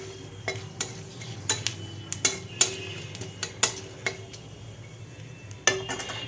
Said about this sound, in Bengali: তো প্রথমেই কড়াতে দিয়ে দেব একটু 5 ফোড়ন আর